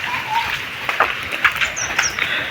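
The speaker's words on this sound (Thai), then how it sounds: "ฝนก็ตกเนาะ" Steady rain falling outdoors in a rural garden among mango trees, a continuous soft patter and hiss with scattered nearby drips, while birds chirp faintly in the background.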